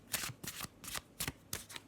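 Everyday Witch oracle cards shuffled and handled close by, a rapid run of five crisp papery riffles and slides spaced about a third of a second apart, quiet with no talking.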